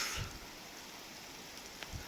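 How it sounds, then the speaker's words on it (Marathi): Steady, soft rain hisses throughout, with a couple of faint low thumps near the start and close to the end. "आणि पाऊस पण चालू आहे"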